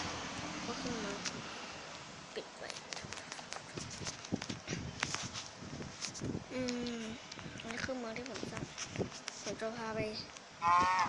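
Chickens cluck at an automatic chicken farm in the video game Minecraft, repeated short clucks and squawks scattered among game noises, with people talking throughout.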